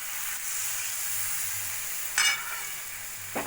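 A cup of milk goes into a pan of cauliflower and spices being fried for a Bengali fulkopi kosa curry. A soft, steady sizzle runs throughout, with brief splashy bursts near the middle and end.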